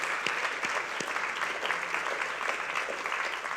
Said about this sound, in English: Yes, you can clap a video.